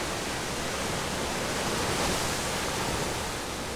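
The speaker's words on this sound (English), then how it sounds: "This is a beach." Waves wash steadily onto a beach in a dense, even roar of surf that stays loud and unbroken throughout, with no voices.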